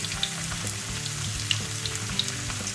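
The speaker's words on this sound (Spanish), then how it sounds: "Primero, freímos las patatas en un aceite que no esté muy caliente" Potatoes frying in not-very-hot oil for a vegan Greek moussaka, with a dense, even bubbling sizzle throughout and a few faint pops and spatula taps close by.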